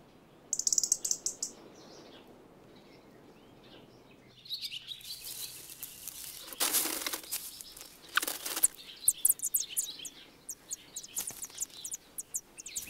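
Robins chirp and call near their nest, short bright bursts of tweets in clusters with flutters of wings, fairly close and clear over a quiet background.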